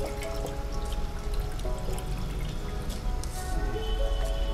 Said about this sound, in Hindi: अब हम इसको छन्नी की सहायता से छान लेंगे।